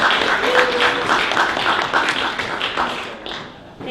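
Audience at a tech meetup clapping: dense, loud applause with rapid overlapping claps that thin out and fade near the end.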